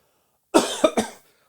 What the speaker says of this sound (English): I just had to cough just then.